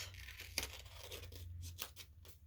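Scissors cut a half circle out of folded paper, giving soft crunchy snips and tearing rasps, close and quiet, with a sharper snip near the start and another later on.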